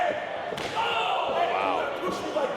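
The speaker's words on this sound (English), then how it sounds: "On the courts with the knife edge chop." A single sharp knife-edge chop slaps a wrestler's chest during a pro wrestling match in Philadelphia, a loud crack over crowd noise and commentary.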